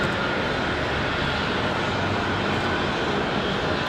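Aer Lingus airliner descending through low cloud toward Raleigh-Durham International, a steady broadband engine roar that holds loud and constant throughout with no voices.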